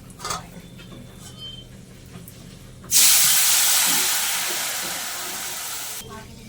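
Water poured into a hot pan of frying pabda fish with turmeric and Kashmiri chili powder, bursting into a loud, sustained steaming hiss that slowly fades over a few seconds before cutting off.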